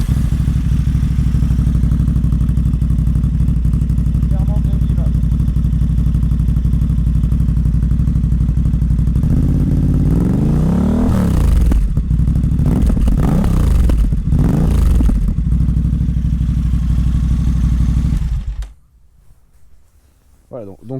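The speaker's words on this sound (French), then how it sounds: "c'est très clairement invivable de rouler avec un pot MIV finition GP carbone comme j'ai, sans chicane" A motorcycle with an MIV GP carbon exhaust and no baffle runs loud and raw nearby, idling harshly and then revving up and down several times before cutting off near the end.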